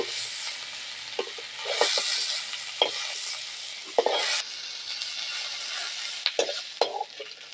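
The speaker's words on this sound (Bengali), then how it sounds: "ঠিক মাছের মাথাগুলো এইভাবে ভাজবে" Hilsa fish heads frying in hot oil in a pan, a continuous close sizzle broken by repeated spatula scrapes and stirring knocks at an irregular pace.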